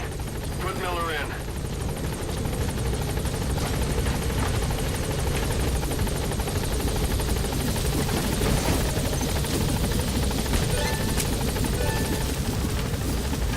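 Loud, continuous helicopter rotor noise in the video game Metal Gear Solid V: The Phantom Pain, with a dense, steady thrum, and a voice speaking briefly near the start.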